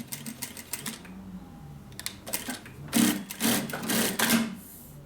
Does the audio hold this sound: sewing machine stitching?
yes